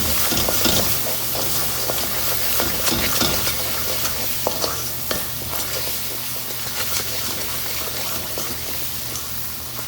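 Chole spices — turmeric, red chili powder and garam masala — stirred in a hot pan, a loud continuous sizzle with repeated scraping strokes of the spoon at close range, no voices present.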